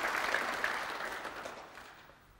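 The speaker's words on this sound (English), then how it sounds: "The round of applause recognises the significance of that shot." Snooker audience applauding after a significant shot at the 2008 Masters, a dense steady round of clapping that gradually fades out toward the end.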